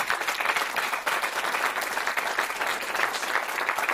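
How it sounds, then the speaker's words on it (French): Steady applause from an audience at a French gesticulated conference talk, sustained and dense throughout with no gaps, heard fairly close. "on peut applaudir Aurore, je crois."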